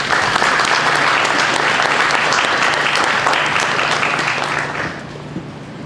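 Sustained applause from a large audience, loud and dense, tapering off slightly toward the end.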